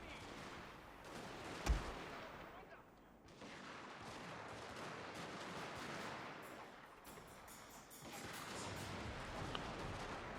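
Rifle fire from mercenary troops in the strategy game Shogun II rattles steadily through a dense battle din, with one sharper crack standing out early amid continuous volleys and clatter.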